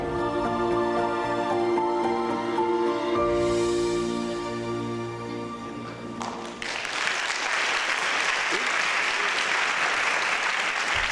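A large crowd applauding steadily and loudly for several seconds, the clapping swelling into a dense, sustained roar of hands.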